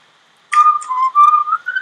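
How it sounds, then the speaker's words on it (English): A person whistles a short wavering tune, loud and close, starting abruptly after a moment of quiet and running in a few quick connected phrases with no talking. "Oh yeah, dude, stop whistling."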